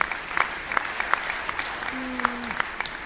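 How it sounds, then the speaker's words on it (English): Conference audience giving a round of applause, a dense patter of many hands with a few sharper claps standing out, steady and moderately loud; a brief tonal hum runs underneath near the end. "if we could have some round of applause"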